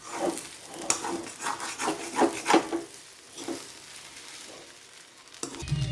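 Broken wheat upma fries in a pan while being stirred, giving soft scraping and rubbing strokes over a faint sizzle, in irregular bursts at close range.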